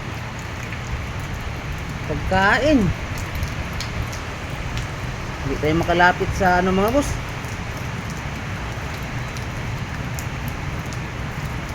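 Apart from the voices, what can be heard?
heavy rain falling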